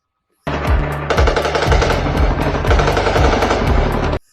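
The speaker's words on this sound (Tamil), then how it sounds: "மலை உச்சியில் சுற்றி நின்று கொண்டு சுட்டு தள்ளுகிறது பாகிஸ்தான் ராணுவம்" Rapid bursts of automatic gunfire from Pakistani army soldiers shooting from a mountain top, loud and close, with overlapping volleys running continuously for several seconds.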